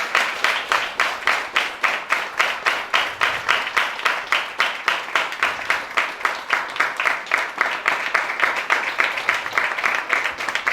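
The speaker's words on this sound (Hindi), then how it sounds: "अगर पसंद आया है तो एक बार जोरों से ताली बजाकर धन्यवाद करेंगे बच्चों का" An audience at a church youth program claps for the children in steady, rhythmic unison for about ten seconds, loud and close, with faint voices underneath.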